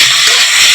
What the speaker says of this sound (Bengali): সব সবজিগুলো ভেজে নিচ্ছি